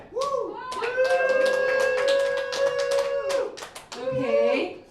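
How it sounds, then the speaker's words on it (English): A small comedy-bar audience claps to vote during a Halloween show, sounding as a burst of scattered hand claps beneath a loud voice talking throughout. "You guys are all clapping the same for everyone."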